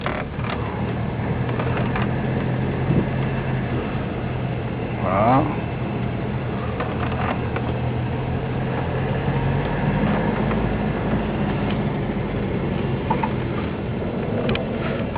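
A cold 1957 Citroën DS 19 engine runs steadily with a low rumble, close and continuous, while someone speaks French over it briefly.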